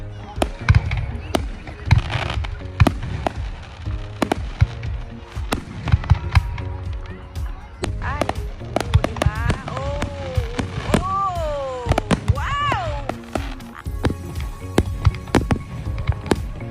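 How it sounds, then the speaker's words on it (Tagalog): Canada Day fireworks bursting at a distance, a steady run of sharp cracks and booms with crackling tails, while people talk and exclaim nearby throughout. "so kakatapos lang ng fireworks"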